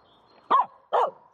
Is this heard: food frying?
no